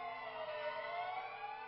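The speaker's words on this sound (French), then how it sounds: "Il est midi, les sirènes retentissent." Air-raid sirens wail at noon across Warsaw's squares and streets, a steady, distant droning tone holding continuously without pause.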